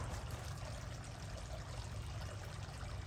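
A garden water fountain trickles and splashes steadily outdoors, a close, continuous watery wash with no talking over it.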